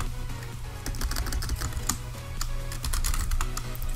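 Rapid, irregular keystrokes on a computer keyboard clatter steadily and close by over a constant low electrical hum, with no talking.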